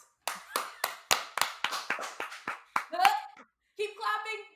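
A person claps hands in a steady series of sharp, close claps, about a dozen in quick rhythm, followed by a voice speaking.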